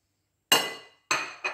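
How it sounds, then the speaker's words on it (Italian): Spaghetti with pistachio pesto, olives and burrata being mixed in a bowl, giving three sharp, bright clinks of a utensil against the dish with short ringing decays and silence between. "Mescolo il tutto."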